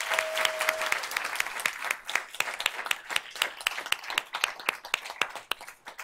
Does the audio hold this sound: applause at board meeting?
yes